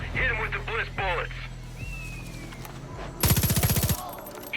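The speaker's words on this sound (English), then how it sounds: "Hit him with the bliss bullets." Bliss bullets fire in Far Cry 5 as a rapid burst of close gunshots near the end, preceded by game character voices talking over a low background hum.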